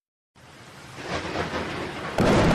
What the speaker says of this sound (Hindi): रात को तूफानी बारिश शुरू हो जाती है।